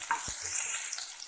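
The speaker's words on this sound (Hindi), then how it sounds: "प्याज को भी हल्का सा ब्राउन होने तक फ्राई कर लेंगे" Finely chopped onions frying with sautéed garlic for bathua kadhi, a close, steady sizzle broken by a quick stirring knock early on, with no voices.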